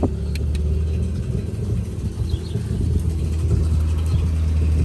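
A boat engine being flushed with a salt-removal wash runs loud and steady, with a dense low rumble as the RPMs rise slightly and hold throughout, no talk.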